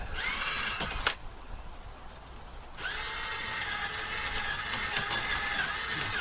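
A power drill bores and reams a hole during boat prep, whining steadily and loudly up close, stopping for about two seconds after a sharp knock, then running again at full speed to the end.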